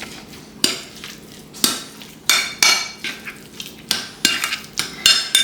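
A spoon stirs and scrapes a mixture in a bowl for smoked cream cheese appetizers, giving repeated close clinks and knocks against the bowl in an uneven rhythm, alone without talk.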